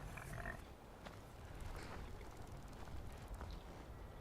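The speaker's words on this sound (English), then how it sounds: "There are piggies." Pigs grunting and oinking in Skyrim, set near farm fields: a few faint, scattered snorts and grunts over a low, steady background murmur.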